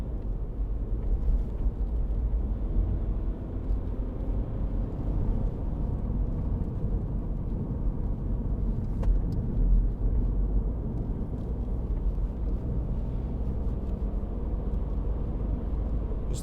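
A 2015 MINI Cooper D 1.5 diesel automatic hatchback accelerates through bends, its engine and road noise forming a steady low rumble heard from inside the cabin, with no talking.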